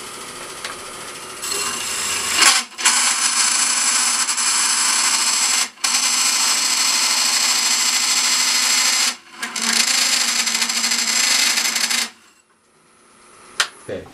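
Korpro core drill boring into a workpiece and throwing out rolling shavings, a loud steady grinding whine broken by brief stops and restarts, then a short quieter tail.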